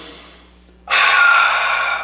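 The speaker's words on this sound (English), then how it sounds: "Big inhale. As much air as you can get in." A deep, forceful inhale during a morning yoga session: after a faint lead-in, one loud, close breath in rushes through the nose and mouth and is held steady for about a second.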